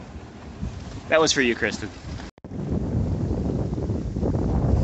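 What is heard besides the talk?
wind blowing on a sailboat at sea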